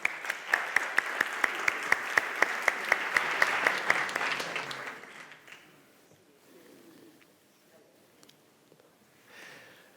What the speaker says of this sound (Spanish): Este fuerte aplauso para todos vosotros.